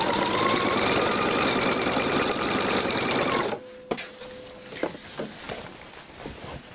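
A sewing machine stitching along the band of a homemade apron, a loud fast steady whir for several seconds that stops abruptly, followed by quieter clicks and handling sounds.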